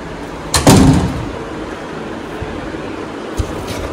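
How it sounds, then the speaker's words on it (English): A door being shut inside a home: one sharp, loud slam close by, followed by quiet room tone. "Let me just shut the door."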